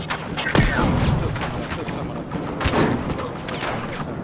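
Rapid gunfire bursts and a heavy grenade blast crack through a close-quarters Battlefield Hardline match in a downtown map, dense overlapping shots and booms with players talking over the action.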